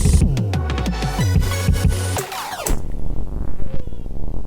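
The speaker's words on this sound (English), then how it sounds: "So it's a very weird rising effect sounding like thing." A cat meow sample is reworked into an odd rising effect, a loud run of pitched, stuttering tones that sweeps upward, then breaks into a denser, wavering swell of rising texture.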